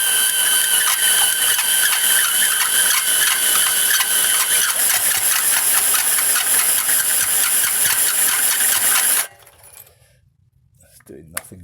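Hole saw running in reverse on a drill, cutting out the stock exhaust baffle of a Honda CB1000 MK1 motorcycle, a loud, steady, high-pitched chattering whine for about nine seconds that then stops abruptly, leaving faint clatter.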